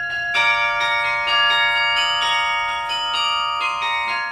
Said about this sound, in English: These are modern Dutch bells, only 25 years old.